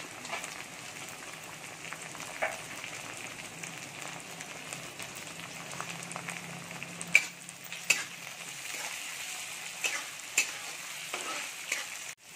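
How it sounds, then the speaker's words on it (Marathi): Vegetables sautéing slowly over a low flame in a pan for restaurant-style Veg Kolhapuri, a steady soft sizzle with occasional spoon scrapes and stirring clicks throughout, no talking. "हे आपण चांगलं मंद आचेवरती परतून घेणार आहोत."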